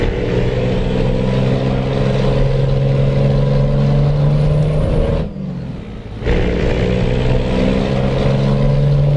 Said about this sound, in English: you flip the throttle just to bring the revs up